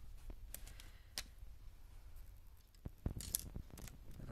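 Small plastic LEGO pieces click and snap faintly in a series of sharp, close taps as six rounds are loaded into a LEGO rubber-band gun.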